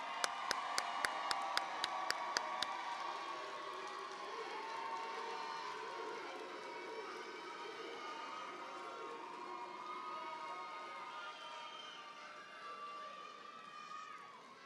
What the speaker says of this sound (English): We got to give these guys another round of applause.